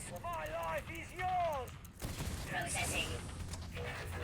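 Giga Cannon fire in the mobile strategy game Command & Conquer Rivals: a rumbling volley of repeated blasts and impacts fills the second half, following tonal game sound effects, with a voice talking over the action.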